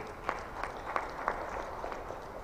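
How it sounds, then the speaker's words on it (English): Faint audience applause for a professor at an Abuja event, a soft, thin patter of clapping with a few slightly stronger claps recurring at a loose, even pace, no voices over it. "Please, a round of applause for Prof."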